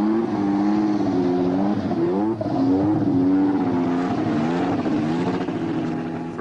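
A turbocharged Formula 1 car engine revs loudly and close, a sustained buzzing roar that rises and falls in pitch over several seconds, with no talking.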